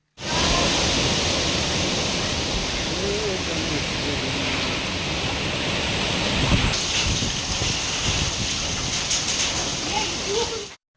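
Heavy summer hail and rain fall in a steady, loud, dense hiss, with the patter continuing unbroken throughout.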